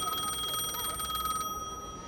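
A payphone on a boardwalk rings with a rapid, trilling electric bell that sounds continuously, then cuts off, leaving a faint steady tone.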